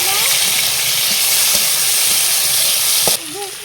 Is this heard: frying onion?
yes